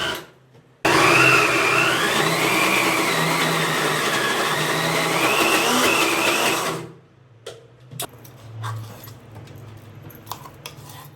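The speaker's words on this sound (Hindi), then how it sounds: "उसके बाद मिक्सी में दाल को पीस लेते हैं।" Kitchen mixer grinder grinding urad dal, a loud whirring motor with a rattling edge that runs steadily for about six seconds and then stops, followed by faint clinks and handling noises.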